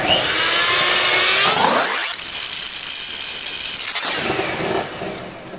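An electric mixer beats egg yolks with sugar for tiramisu, giving a loud, steady motor whine that dips and softens midway, then rises again near the end.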